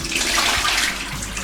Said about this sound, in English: We're just going to drain it off.